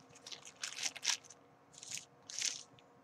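A cheddar burger with no onions is bitten into, giving a few close, crunchy, crackling bites in separate bursts with short pauses of quiet chewing between them.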